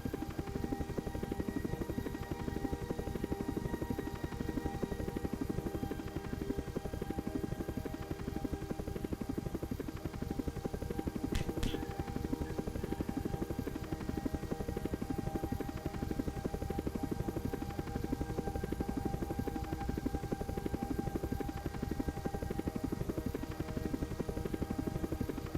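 Looping helicopter sound effect in a Unity penguin game, a dense continuous rotor drone with a constant level and one brief high click midway, no voices.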